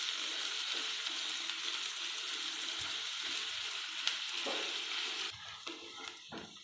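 Cumin seeds sizzling in hot oil in a pan, a steady close hiss with a few scraping stirs toward the end as the frying quiets slightly.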